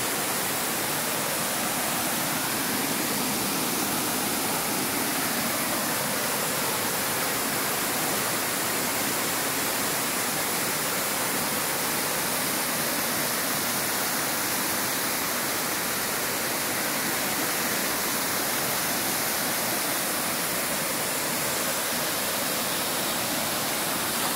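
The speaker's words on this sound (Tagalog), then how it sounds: "Yan o, yan ang falls." Busay Falls at Tudela on Camotes Island, Cebu, pours with a loud, unbroken roar of falling water that fills the whole stretch evenly, with no other sound standing out.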